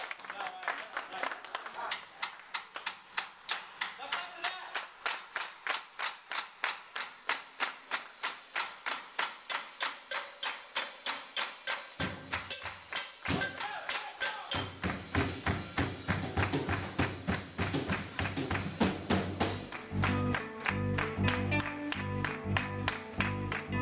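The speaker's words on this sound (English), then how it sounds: "Clapping's good." An audience claps along in steady rhythm at a live band performance, the even beat continuing for many seconds before the band's instruments join in loudly.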